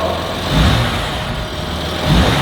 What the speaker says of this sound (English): I'm gonna give it a couple revs